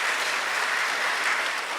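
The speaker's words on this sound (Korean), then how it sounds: "귀한 격려의 박수 다시 한번 부탁드리겠습니다" A church congregation claps during a Sunday worship service, a full, steady burst of applause that holds evenly throughout with no voices over it.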